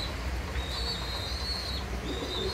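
Faint cooing comes from a pair of Black Lahori silky-marked pigeons, a soft low burble beneath steady background noise, with a thin high chirping line running over the top.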